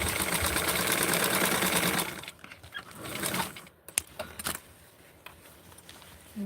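A sewing machine stitches a small doll shirt: a steady, fast mechanical whir for about two seconds, then stops, followed by short handling clicks and rustles nearby.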